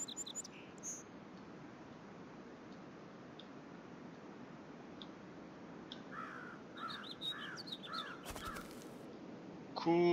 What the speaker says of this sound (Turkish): Kuş sesleri ovalara yayılır.